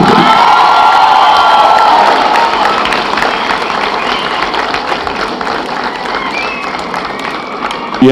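A large college audience at an event applauds loudly and cheers, with whoops and shouts riding over dense, continuous clapping that stays strong before easing slightly toward the end.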